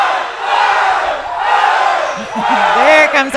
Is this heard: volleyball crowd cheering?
yes